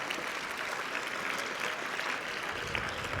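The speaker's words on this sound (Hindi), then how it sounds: "तो एक बार जोरदार तालियों से बताओ कि सम्मान कुछ बड़ा होने वाला है।" A crowd at a JEE results celebration bursts into sustained applause, a dense and fairly steady clapping that runs unbroken for a few seconds at a moderate distance.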